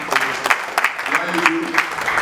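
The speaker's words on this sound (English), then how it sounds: "I think I deserve a little round of applause for you." Light, sparse clapping from a small workshop audience, a handful of separate claps spread across a couple of seconds with faint voices in the room.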